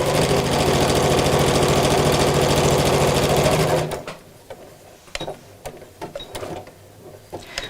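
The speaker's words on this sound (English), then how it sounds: "At the top of the pocket we're going to reverse backwards and then forwards a couple of times just to strengthen the seam at the top, and then sew straight down" A sewing machine stitches a pocket seam with a fast, steady mechanical whirr for about four seconds, then stops, followed by quieter handling clicks and taps of fabric and machine.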